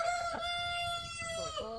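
A single faint Brahma rooster crow rises and falls over about two seconds in a backyard chicken coop.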